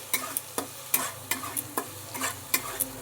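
Garlic, ginger and onion fry in a pan while a spatula stirs them in quick, rhythmic strokes. About a dozen crisp scrapes sound over a steady sizzle, close up.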